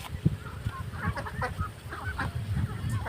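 Native Bengali ducks kept in a small backyard enclosure quack and honk in a busy, overlapping flock, close and steady throughout with no talk.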